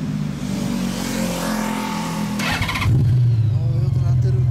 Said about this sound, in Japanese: すんません、ほんなら1台ずつエンジン音聞かせてもらいます。